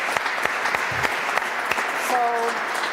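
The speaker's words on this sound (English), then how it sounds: "ask you to join me for a big applause for these" Conference attendees applaud the panelists at the end of a discussion, an even patter of clapping with a few sharp individual claps and a brief voice near the end.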